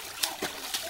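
Water splashing in a backyard swimming pool, three short bright splashes about a third of a second apart, close and moderately loud over a steady watery hiss.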